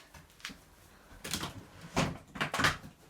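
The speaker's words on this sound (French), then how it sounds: "Attendez, je vais juste fermer la porte." A door being shut indoors, heard as a soft scrape and a few quiet knocks and clunks that build to two firmer bumps at the end, with no talking.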